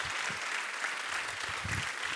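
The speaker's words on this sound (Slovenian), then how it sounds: "Dajmo še en aplavz za kandidatko." A TV studio audience claps continuously at a moderate, even level, a steady wash of applause with no clear voices above it.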